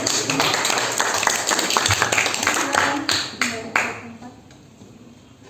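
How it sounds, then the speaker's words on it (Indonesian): Classroom applause for a student group during a teacher's teaching-performance session: a burst of many hands clapping together for about four seconds, mixed with voices, then fading to quieter room talk. "tepuk tangan dulu untuk kelompok"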